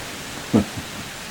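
Rain coming down outdoors in cold, windy weather during deer season, a steady soft hiss with a single short low thud partway through.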